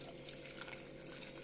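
Water poured into a pressure cooker holding carrots and salt, a soft steady trickling stream that runs evenly throughout, quiet and close with no talking.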